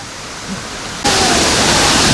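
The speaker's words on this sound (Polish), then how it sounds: "Tam jest wodospad w dół. On nazywa się Kelly Waterfall." Kelly Waterfall in Royal National Park near Sydney, a continuous broad rush of falling water that jumps abruptly louder midway, steady and dense without pauses.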